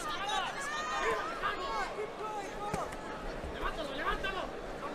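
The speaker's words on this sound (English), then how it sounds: "Crowd continues to settle in here at the Thomas & Mack." Crowd at a boxing arena, the Thomas & Mack in Las Vegas, settling in before a super featherweight fight, a steady murmur of chatter and babble with voices heard throughout.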